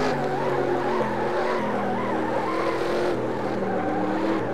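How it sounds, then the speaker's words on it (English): Tire squeal from the left front of a 2007 Cup car in NR2003 on a road-course roval. A steady, loud squeal rides over the engine drone through the corner, with no talk. "Freaking squealing that left front"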